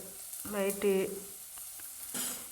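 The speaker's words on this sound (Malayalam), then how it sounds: "ഇവിടെ എല്ലാം കൂടെ ചേർത്താണ് വഴറ്റിയെടുക്കുന്നത്." Ingredients sauté in a hot pan, a soft steady sizzle with light stirring, quiet and close under brief bursts of talk.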